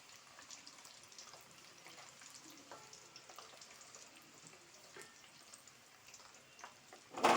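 Tempering seeds and curry leaves crackle quietly in hot oil for a home-made tomato chutney, a soft continuous frying hiss with scattered pops that ends in a sudden loud burst.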